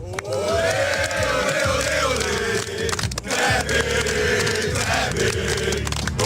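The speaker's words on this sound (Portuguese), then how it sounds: "E tem até grito da torcida aqui, não é?" Palmeiras supporters chant loudly together on a New York street near Fifth Avenue, a dense, continuous crowd roar of massed voices filling the space with steady, rhythmic energy throughout.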